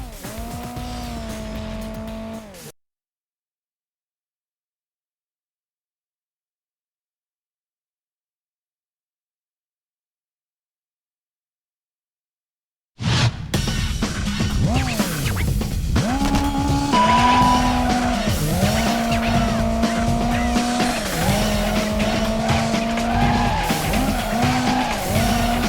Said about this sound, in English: This is called a feint drift.